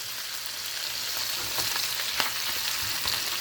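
Ginger and seasonings fry in hot oil for adobong manok chicken, a steady close sizzle with faint crackles and a few soft spoon stirs, no talking.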